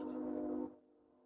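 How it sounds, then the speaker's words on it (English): A passing train blares a loud, steady horn tone for about two-thirds of a second, then cuts off abruptly, leaving only faint low rumble behind it. "Oh, it's a train."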